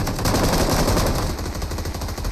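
Loud, sustained automatic gunfire from the mobile shooter game BGMI, a dense unbroken rattle of rapid shots with no pause, heard alone.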